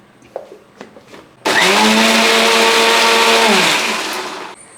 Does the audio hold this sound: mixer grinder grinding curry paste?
yes